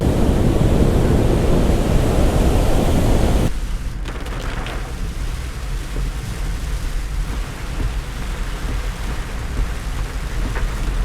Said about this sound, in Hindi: आपने देखा रास्ते में बहुत ज़्यादा बारिश थी